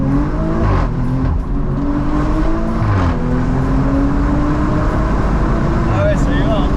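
An Audi RS4 ABT-R engine revs and accelerates loudly from inside the car, with the engine note climbing and dropping in pitch as it pulls hard, while people talk over it.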